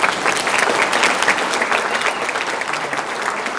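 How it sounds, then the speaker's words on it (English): Loud audience applause fills a candidate forum after the panel of candidates speaks, steady clapping from a large crowd throughout, fading slightly toward the end. "Let's give them a big round of applause."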